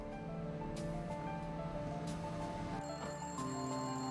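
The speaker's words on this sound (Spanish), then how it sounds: "El teléfono ya estaba sonando cuando llegó." A telephone rings steadily in a dramatized FBI case reenactment, a continuous electronic ringing tone under a bed of background music, faint and without speech.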